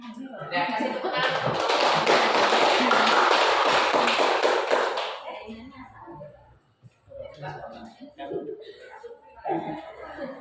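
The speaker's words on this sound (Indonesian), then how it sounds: "Udah kasih tepuk tangan." A classroom audience claps for about five seconds in a dense, fairly loud burst of applause, then it fades out and is followed by scattered talking and small noises.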